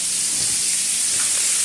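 A steak frying in a pan gives a steady, loud sizzle and hiss throughout, with no pauses or talk over it.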